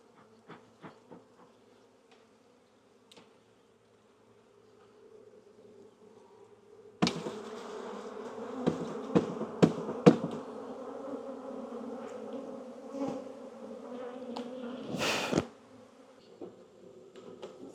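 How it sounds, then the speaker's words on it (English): Honeybees around an open hive with bees on every frame buzz in a low, steady hum, faint at first then swelling into a dense close swarm drone with occasional bumps and clicks. "Got bees on every frame down there."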